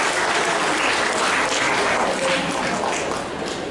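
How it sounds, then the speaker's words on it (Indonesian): School audience applauding the student council, dense continuous clapping from a crowd that stays loud throughout and tapers slightly at the end. "Tepuk tangan untuk anak OSIS."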